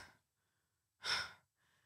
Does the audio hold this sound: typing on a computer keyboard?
no